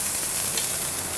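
Dry-aged T-bone steak sizzling steadily in a hot pan, a dense, even frying hiss close up with no talk over it.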